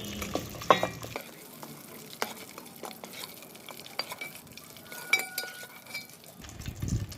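Fried eggs being lifted out of a pan on a wood-fired stove, with quiet scraping and clinking of a utensil against the pan over a soft sizzle, ending in a louder burst of frying.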